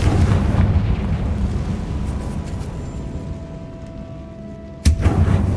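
Confringo fire spell explosion in Hogwarts Legacy: a heavy rumbling burst that slowly decays into a low roar, then a sharp new impact near the end, loud and close.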